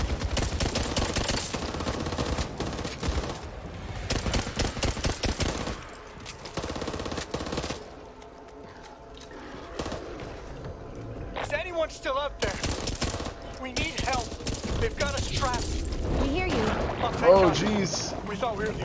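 Rapid bursts of automatic gunfire and heavy weapon shots from the Back 4 Blood zombie shooter, crackling in dense volleys with brief lulls, mixed with game effects while players talk over the action.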